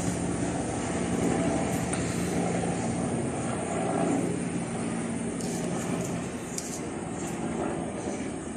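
A Philippine Air Force Bell UH-1H Huey helicopter passes overhead, its rotor and engine making a loud, continuous broadband roar that holds steady throughout, with faint voices in the background.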